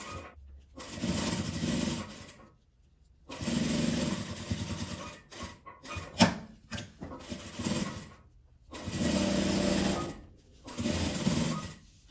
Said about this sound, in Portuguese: vou passar uma costura, fechando essa parte e dando a volta em toda a minha bolsinha